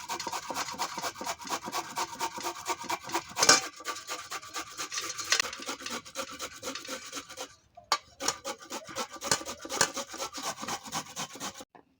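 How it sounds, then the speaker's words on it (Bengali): A carrot rubbed against a kitchen grater in quick, rhythmic rasping strokes, close and clear, with a brief pause near the end before the scraping resumes; no talking. "এবার আমরা গাজরটাকে গ্রেটার দিয়ে আমরা ঘষে নেব।"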